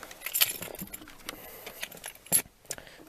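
Car keys jangling as they are pulled from a pocket beside a Ford Explorer, a few close, bright metallic rattles in short bursts, quiet and otherwise alone.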